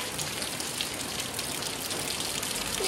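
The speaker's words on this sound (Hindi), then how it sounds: "पूरा बारिश हो रही है, पूरा जोरों से आया एकदम।" Heavy rain pours steadily, a dense, continuous hiss of drops drumming on surfaces, loud and unbroken throughout.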